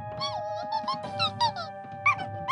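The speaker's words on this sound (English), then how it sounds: "We know that squeaking, B2." Squeaking in an attic, heard as a string of high, chirpy squeaks and whimper-like cries in short bursts over a steady low hum, fairly close and clear.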